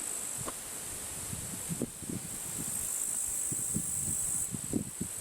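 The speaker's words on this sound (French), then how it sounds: "Les grillons, je les entends fort." A steady high chorus of crickets chirps continuously in the background at an archaeological site in Buzenol, Gaume, on a warm evening, with soft rustling and scattered low knocks nearby.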